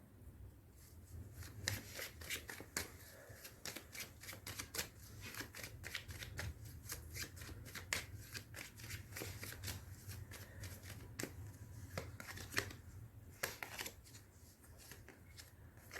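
Playing cards are shuffled over and over in a reading of oracle cards, giving rapid riffling bursts and soft flicks that run steadily and close up, with no talking.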